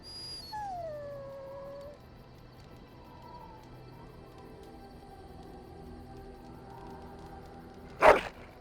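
Dog howling in Dragon Age Origins: a clear drawn-out howl with falling, wavering pitch rises early, then softer whimpering tones trail off, ending with a brief sharp burst near the end.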